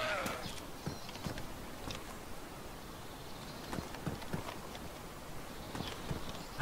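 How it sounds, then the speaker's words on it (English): Faint, irregular footsteps in the video game DayZ thud and scrape against a quiet, hissy background, a few steps at a time with brief pauses between them. "oh yeah, footsteps"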